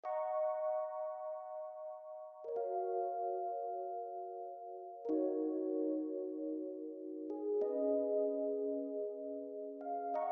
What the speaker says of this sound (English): add another layer of the keyboard Whirly and just added chorus on it